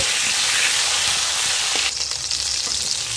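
Pieces of pointed gourd (patol) coated with salt and turmeric frying in hot oil in a village kitchen, a steady close sizzle that briefly flares and crackles partway through.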